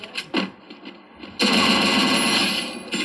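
Battle royale video game gunfire, a few scattered single shots and faint pops followed by a loud sustained burst of rapid automatic fire lasting over a second, then more shots at the end.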